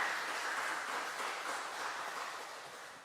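A church congregation applauds during a Sunday service to welcome newcomers. Steady, even clapping from many hands carries without interruption, heard at a modest distance and fairly quiet.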